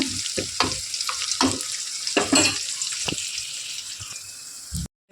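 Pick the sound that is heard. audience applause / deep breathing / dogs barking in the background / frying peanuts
frying peanuts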